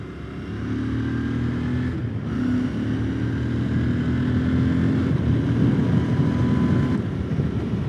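A 2020 Royal Enfield Interceptor 650 cruises in sixth gear on a highway at about 110 km/h, a steady low engine drone under strong wind rush, continuous and loud, no talk.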